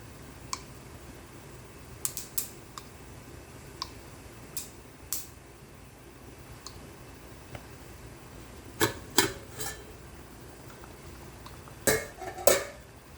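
Mustard seeds pop and splutter in hot oil while tempering shallots and curry leaves for a drumstick kootu, with scattered faint crackles building into quicker clustered snaps near the end.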